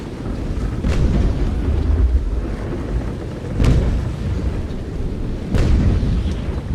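Naval cannons in the game Naval Action fire three heavy, rumbling booms a couple of seconds apart, each rolling off over a low, steady background roar.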